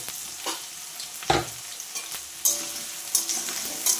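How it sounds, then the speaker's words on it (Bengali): Chopped onions frying together with potatoes in a pan, a steady sizzle broken by several sharp stirring scrapes and clatters, close and fairly quiet with no voices. "এদিকে তো আলুর সাথে পেঁয়াজটা ভাজা হচ্ছে"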